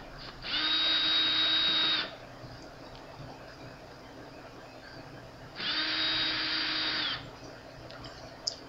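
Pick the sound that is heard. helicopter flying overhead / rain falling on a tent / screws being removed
screws being removed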